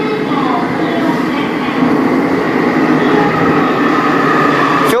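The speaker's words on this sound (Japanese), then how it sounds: "電車が来るみたいです" A subway train pulls into a station in Sendai on Japan's newest metro line, a loud continuous rumble of wheels and motors with a faint rising whine and a brief squeal at the end.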